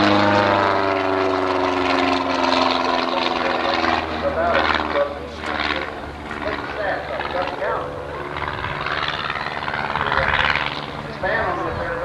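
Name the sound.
aerobatic propeller airplane with 180 horsepower engine at airshow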